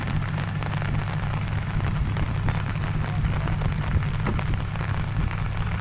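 Steady rain falls under a dark, overcast sky at an outdoor work site with slippery mud, a continuous dense hiss with a low rumbling undertone running without a break.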